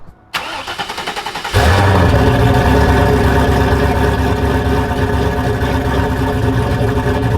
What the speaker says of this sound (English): Let's cold start this thing, go on a little drive, nice little cruise in the Turbo Camaro